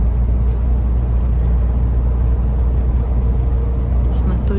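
Steady road noise from a car driving toward a sanatorium in Kabardino-Balkaria in winter, a loud constant low rumble of engine and tires from inside the cabin, with faint higher hiss and no clear voices.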